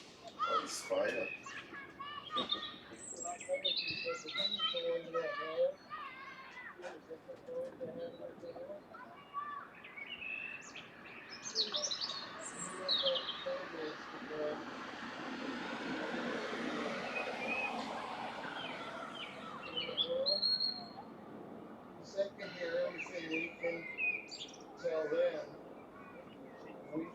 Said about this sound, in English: sometimes when I'm hearing the birds